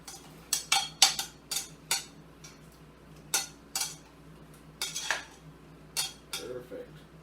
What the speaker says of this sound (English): give that a little stir around in the butter there